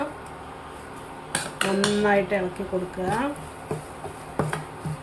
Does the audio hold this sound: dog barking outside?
no